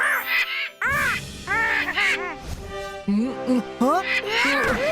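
A person's voice imitates a crow, letting out a rapid series of nasal, rising caws in uneven bursts, close and loud.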